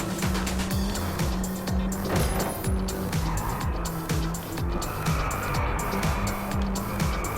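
Racing car engine roaring steadily through gear changes in the racing game Driveclub, with repeated tire squeals on corners; someone talks over the continuous loud engine drone.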